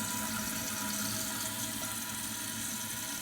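A Kohler toilet tank, refitted with a new canister gasket and flapper, refills after the water is turned back on, giving a steady, loud hiss and rush of inflowing water that holds without a break.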